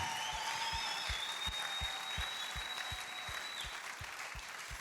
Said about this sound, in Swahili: tena makofi.